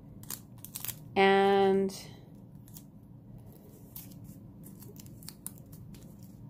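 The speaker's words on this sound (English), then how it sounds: "So I'm going to take off the tape" Tape being peeled off a tightly wrapped package holding a small diamond painting key, giving one loud, squealing rip of under a second, followed by faint rustling and handling.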